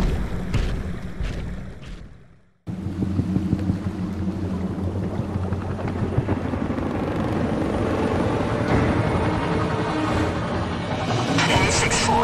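Helicopter rotors from a Gears of War: Ultimate Edition cinematic make a steady, loud, continuous drone after a brief drop to silence near the start. The drone is mixed with dense soundtrack-like texture.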